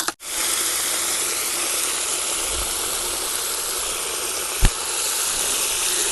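Water gushing steadily from a hose or tap into a container to dissolve calcium fertilizer for blueberry bushes, a continuous broad hiss of pouring with one brief knock partway through.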